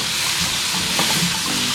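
Steady sizzling and frying of drumsticks (moringa) in a pan for a South Indian curry, with occasional stirring scrapes, continuous and close, no voices.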